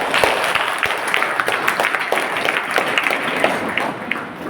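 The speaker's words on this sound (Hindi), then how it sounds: "चलिए इनके लिए जोरदार ताली बजाइए।" Students at a school summer camp in Balrampur, Chhattisgarh, applaud a girl who comes forward. The clapping in the room is moderate and fairly sparse, with individual claps audible throughout.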